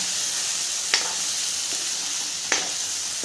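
Eggplant pieces tossed into hot oil for a spicy Marathi-style vegetable dish, giving a steady soft sizzle with two faint clinks of stirring.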